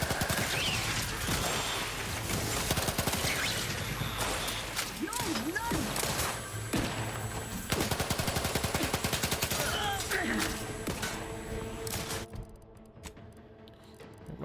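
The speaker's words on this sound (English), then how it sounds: "My goo gun." Goo gun firing in The Outer Worlds 2, loud repeated shots with game music and effects, voices talking over the action, fading quieter near the end.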